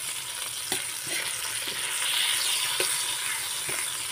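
Dried labahita fish sizzles in a pan with garlic and onion, a loud bright continuous frying hiss close up, broken by a few clinks and scrapes of a stirring utensil.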